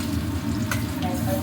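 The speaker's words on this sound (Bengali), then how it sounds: "একবার ভেজে নিই" Pieces of food frying in a pan at home, a steady close sizzle running throughout with a faint clink partway.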